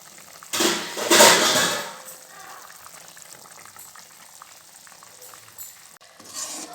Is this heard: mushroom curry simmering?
yes